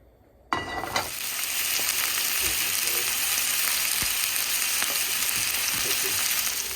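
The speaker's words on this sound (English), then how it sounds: "I am going to put these pork chops down into my hot pan as soon as it comes to temperature." Pork chops hit a hot pan and sear with a loud, steady sizzle that erupts suddenly and holds, flecked with sharp pops of spitting fat close by.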